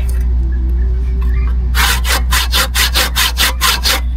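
A hand saw cuts through wood in about ten steady back-and-forth strokes, loud and close, after a quiet stretch with a low hum.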